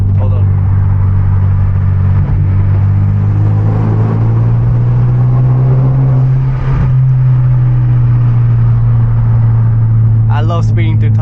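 Low, steady engine drone from inside a Hyundai Genesis Coupe with a turbo and loud exhaust, speeding at night through a road tunnel; the rumble holds constant throughout, with a brief voice at the end.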